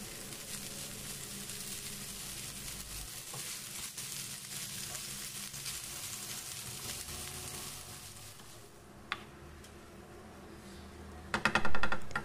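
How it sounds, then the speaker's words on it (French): A small bowl of rice is stirred into a hot frying pan, giving a steady, close sizzle with soft scraping under it, then a brief cluster of sharper clinks and clatter near the end. "je rajoute le riz, un petit bol et je mélange"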